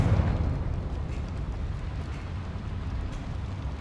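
A Confringo fire spell in Hogwarts Legacy sets off a deep, rumbling blast that trails off into a low roar, heard alone and fairly loud.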